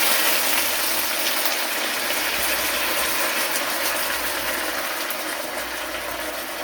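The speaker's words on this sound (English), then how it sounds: "I'm gonna add the water from this bean because I wanted to cook with the bean." Bean cooking water pours steadily into a pot of Jamaican oxtail, a continuous loud gushing wash with no breaks. No one speaks over it.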